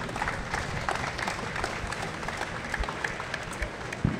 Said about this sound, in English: let's give these guys a round of applause for an excellent panel